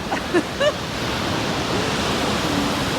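Stormy sea waves surge onto a beach at Arkadia, a broad, continuous roar of surf and wind, with a couple of brief high voice-like yelps near the start.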